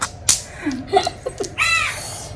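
A crow near a house gives several short harsh caws and one longer rasping call, close and clear against a quiet background.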